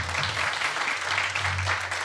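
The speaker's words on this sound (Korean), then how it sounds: "다시 한번 큰 격려의 박수 부탁을 드립니다" An audience at a humanities forum lecture on artificial intelligence applauds the speaker, giving a continuous, even wash of clapping at moderate volume with a faint low hum underneath.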